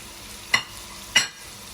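Pumpkin being stirred into risotto in a pan, two quick scraping strokes about half a second apart over a low steady simmer, close and fairly quiet.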